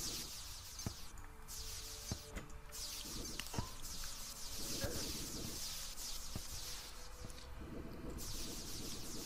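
A swarm of bees in the game Terraria buzzes steadily in the background, a dense, continuous insect drone with scattered clicks and game effects layered on top.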